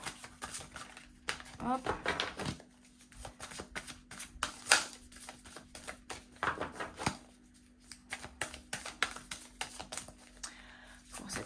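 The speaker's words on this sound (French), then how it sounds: "Encore quelques cartes avec le tarot." Tarot cards shuffled by hand during a card reading, giving repeated close riffling and flapping bursts with sharp taps in between. Someone talks briefly alongside.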